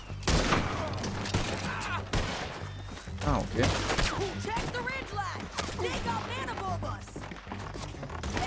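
Gunfire in the Western video game Red Dead Redemption 2, dense rapid shots crackling and echoing continuously in a heavy firefight, with a game character's voice speaking over it.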